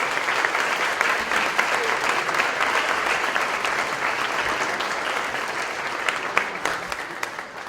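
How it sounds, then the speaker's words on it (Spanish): A lecture audience applauds a doctor, the director of the Capilla Alfonsina, at a talk on the modern Mexican state. The clapping is strong and sustained, with a full, even wash of hands and a few sharper claps near the end. "Fuerte y afectuoso el aplauso para el doctor"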